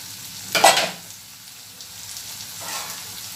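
Thinly sliced bitter gourd sabzi is sautéed in a pan: a short burst of stirring and sizzle comes first, then the frying settles to a soft, steady hiss.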